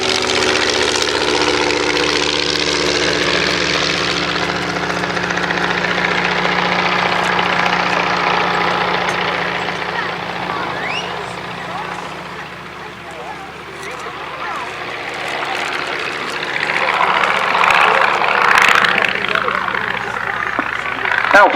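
A World War I fighter plane flies at an airshow at East Kirkby, its engine a steady droning hum with a broad rush as it passes, heard under an announcer's continuous commentary.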